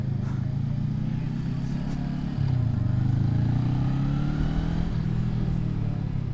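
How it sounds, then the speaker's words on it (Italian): A Honda CMX500 Rebel motorcycle engine drones loudly and steadily, its pitch climbing as it revs up partway through. "Il 500 ha un motore da Madonna."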